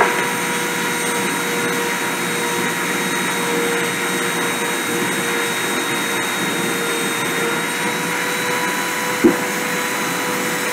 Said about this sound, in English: Okay, starting print.